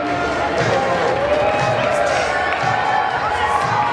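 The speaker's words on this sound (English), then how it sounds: "Let's get some momentum with a little bit of cheering" A crowd cheers and roars at a roller derby bout between the Eights and the Maidens. The noise forms a steady, dense wash of voices and applause that fills the whole stretch.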